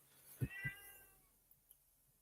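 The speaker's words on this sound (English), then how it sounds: "my cat has been in heat for over a month" A female cat in heat lets out two short, low meows in quick succession, then only faint soft rustles in a quiet room.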